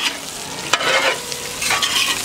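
An egg fries in a pan for an egg pepper fry, giving a loud, steady close-up sizzle with a couple of brief spatters and a short scrape, and no talk.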